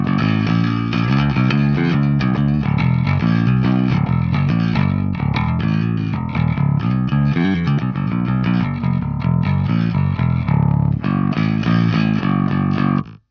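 Bass guitar played through a cabinet loaded with V30 speakers and captured with a Shure SM7B, a loud, growling, gritty riff with moving notes, steady throughout before stopping abruptly at the end.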